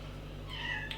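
A short cat meow rises near the end of a quiet second, over a steady low background hum.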